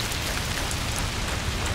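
Steady, dense rainfall in the video game A Plague Tale: Requiem, a constant loud hiss of drops on surfaces with no breaks and no talk.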